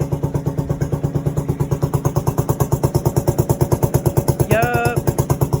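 A motorcycle engine idles steadily just after a battery fault was fixed, its close, even firing pulses chugging throughout, with a brief higher whine rising near the end.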